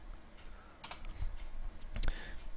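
Typing on a computer keyboard: a few sharp clicks in two small bursts, close and fairly quiet over a low background hum, with no speech.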